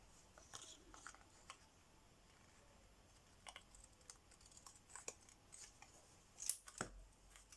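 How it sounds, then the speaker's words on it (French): Scissors snip a small piece of card for a stamped birthday card, giving a few faint, quiet cuts spread out with brief pauses and no one talking. "Et on va le couper comme ça pour le mettre."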